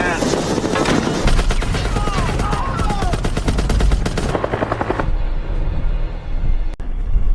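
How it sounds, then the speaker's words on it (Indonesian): Rapid bursts of gunfire in a movie prison-escape shootout, loud dense volleys of shots over several seconds, mixed with other action-scene sounds, and a voice narrating over the top. "ia pun mengambil alih senjata untuk menembaki para penjaga yang tersisa"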